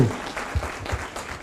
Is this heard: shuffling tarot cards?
no